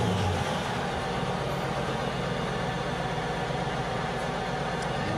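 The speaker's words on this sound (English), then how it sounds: "And we'll start our engine" A car engine turns over and settles into a steady, low idle that rumbles evenly for several seconds with no talk.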